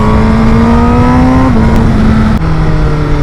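A Honda CBR1000RR SP superbike's engine drones loud and close as the throttle closes, the pitch stepping down with each downshift into a lower steady hum.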